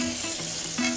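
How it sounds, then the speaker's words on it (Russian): Hot tap water runs into a greasy frying pan in a home kitchen sink, a brief, steady rushing hiss at close range with no talking. "Включаю горячую воду."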